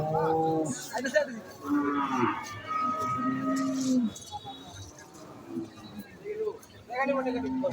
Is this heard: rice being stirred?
no